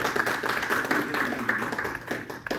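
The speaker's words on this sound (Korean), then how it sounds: "박수 한번 해주시면 감사합니다." A church congregation at a worship service claps steadily in a dense, even wash of applause that carries through without a break, with no voice on top.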